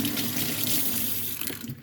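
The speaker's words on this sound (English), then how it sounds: "So now, we have running water." Water from an RV faucet runs steadily into a sink, a constant hiss and splash at moderate level that tapers slightly toward the end.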